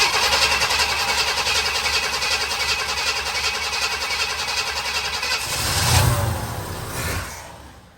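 A 1964 Chevy Corvette Stingray with a 327 V8 and a newly fitted Edelbrock carburetor cranking with a steady churning starter, then catching briefly with a louder rumbling burst before fading.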